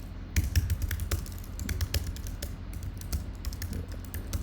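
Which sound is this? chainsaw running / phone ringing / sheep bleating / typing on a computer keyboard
typing on a computer keyboard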